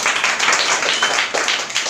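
A church congregation claps hands together in a loud, dense wash of applause-like clapping that continues throughout.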